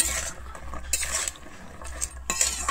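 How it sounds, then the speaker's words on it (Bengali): Mashed pointed gourd mixed with salt for bharta, close scraping and clinking of a utensil against a dish in uneven strokes, fairly loud, with no voices. "আমি লবণটা দিয়ে খুব ভালোভাবে আবারও মিশিয়ে নেব।"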